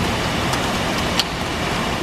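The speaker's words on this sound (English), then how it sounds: "It's hailing, but it was like 80 degrees." Hail falls during warm weather in New York City, a dense, steady patter of impacts that fills the scene with constant close-up noise and a few sharper clicks.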